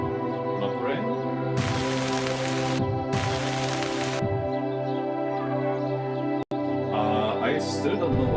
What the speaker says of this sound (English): Make it rain.